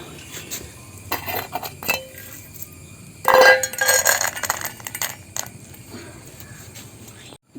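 Food clinks and rattles into a metal feeding bowl set on the ground, a scattered run of bright, close clattering impacts with a louder burst midway, no voices heard.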